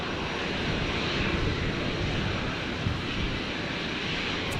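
Qantas 528 approaches Brisbane Airport, its engines a steady, distant broadband rumble with no talk over it.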